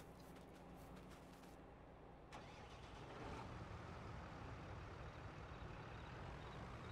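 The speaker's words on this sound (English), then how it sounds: "Now I have to move that tractor." A tractor engine in Farming Simulator 22 turns over and settles into a steady low rumble, holding a constant droning hum as the machine pulls away, with no voices.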